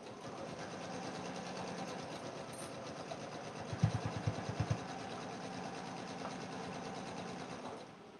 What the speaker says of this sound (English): I'm gonna sew right along this folded edge